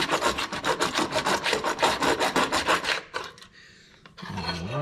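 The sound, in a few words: hacksaw starting a groove in metal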